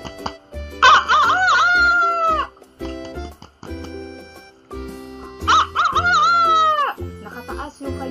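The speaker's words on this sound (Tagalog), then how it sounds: "ang manok na tumitilaok sa umaga" A rooster crows in the morning, two long wavering calls a few seconds apart, loud and close over a steady musical backing.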